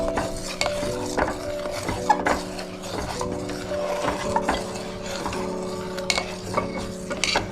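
Thick mohanthal sweet mixture being stirred in a pan with ghee, close scraping and clinking of a utensil against the metal in irregular strokes, with a faint sizzle underneath.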